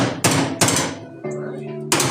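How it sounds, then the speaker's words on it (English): Sharp metal hammer blows strike the body of a 1977 Datsun B210 during welding repair, four loud ringing hits spaced unevenly, each trailing into a brief metallic decay, with a quieter tonal ring between strikes. "We can hammer that back in there."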